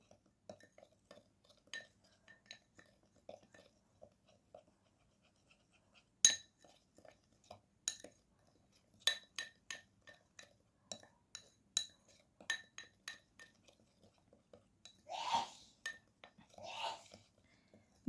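A spoon clinks against a cup or glass while stirring cornstarch into coffee and milk, giving scattered light taps and clinks with uneven rhythm, close and fairly quiet, with a brief soft scrape near the end.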